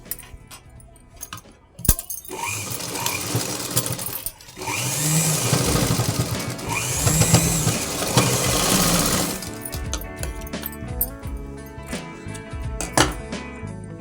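Sewing machine stitching a latkan tassel design, a busy close mechanical whir running for several seconds in the middle, surrounded by clicks, taps and handling noises as the fabric is moved and adjusted.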